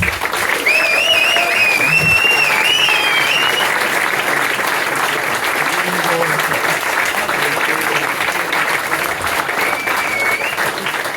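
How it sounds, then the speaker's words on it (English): Clapping at the Kendal Town football club presentation evening for the 2023/24 season: a full room applauding steadily for about eleven seconds, with whistles and whoops rising above the clapping early on. "Can we give him a round of applause, please?"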